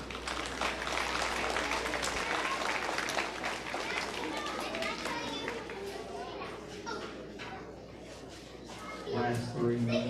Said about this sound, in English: Let's put a big round of applause together for them.